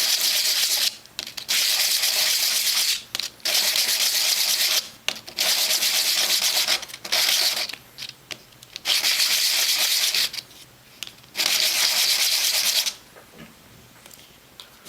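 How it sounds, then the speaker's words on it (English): Light sanding of a plastic Rubik's cube core, a dry rasping scrape repeated in about eight even bursts of roughly a second each, separated by short pauses, close up and without speech. "So just give it a very light sanding."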